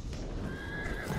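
A horse in the World War I shooter Battlefield 1 gives a clear neigh over steady battle ambience, with some clip-clop of hooves beneath.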